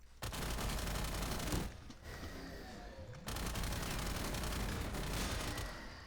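Rapid automatic gunfire in Black Ops 3 Zombies on a custom space map, sustained bursts of shots with a short lull around the middle before firing resumes, loud and continuous, no voices.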